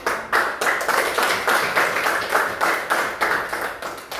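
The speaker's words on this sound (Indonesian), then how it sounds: "Berikan aplaus dulu untuk" A classroom audience claps for a group that has just finished its presentation. The applause is steady and fairly loud, with dense rhythmic hand claps through the whole clip and no talking.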